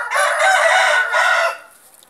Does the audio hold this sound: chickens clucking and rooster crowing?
yes